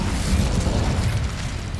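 An Incendio fire spell goes off in Hogwarts Legacy on PS5 as a short, dense rumbling blast with a crackling burst, loud and close, lasting under two seconds without speech.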